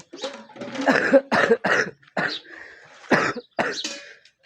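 Several harsh coughs and throat-clearing bursts in quick succession from a person with a cough and cold, close up, separated by short pauses.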